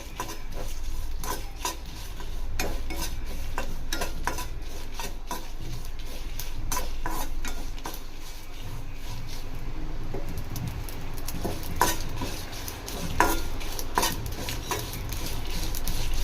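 Tomatoes frying and being stirred in a kadai, with a steady sizzling hiss under repeated scraping and clinking strokes of the spoon against the pan, close and continuous, with no talk.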